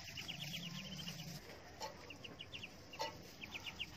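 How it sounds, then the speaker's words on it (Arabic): Young one-week-old Muscovy ducklings give repeated soft high peeps in short bursts close by, with a low rumble early on and a few brief clicks and knocks throughout. "البط بتاع عمره اسبوع"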